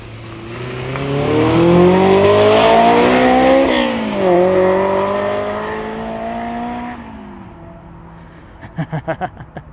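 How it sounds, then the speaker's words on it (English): A 2001 Honda S2000 engine revs up with a deep, throaty exhaust note through a 44mm connector pipe, rising, dipping and climbing again, then settling before a few sharp pops and blips at the end. "It's just the perfect amount of throaty exhaust."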